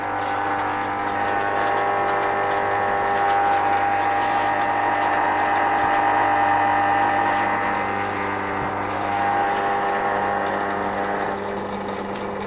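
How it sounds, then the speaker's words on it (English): An inflatable hot tub's filter pump runs with a steady low hum and water flowing through, constant and moderately quiet throughout with no speech. "Let's switch the filter function on and get water starting to flow through"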